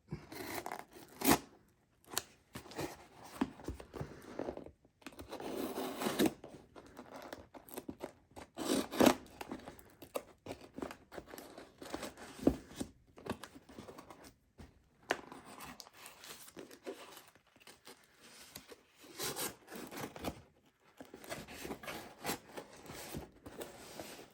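A package holding knives sent in for sharpening is opened, with close, irregular bursts of cutting, cardboard tearing and crinkling broken by brief pauses.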